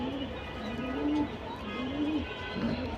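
A female pigeon, still moulting, gives several close, soft cooing calls in rising and falling phrases over a low steady background hum.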